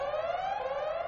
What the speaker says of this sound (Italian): mi spieghi com'è possibile lavorare con questo frastuono? È un allarme rosso.